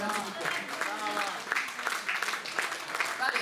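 An audience applauds after an orchestra performance, the clapping dense and steady with a crowd murmuring through it, recorded at a dance evening in Vercelli.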